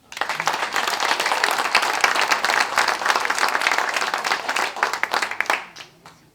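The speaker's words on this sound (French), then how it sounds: "Je vous prie d'applaudir." A conference audience applauds steadily for about five seconds, dense clapping from many hands filling the room before it tapers off quickly.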